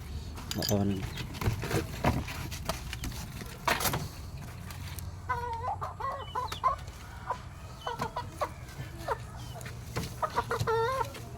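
Talisayon gamefowl chickens cluck and a rooster crows in bursts over busy outdoor background noise with scattered clanks.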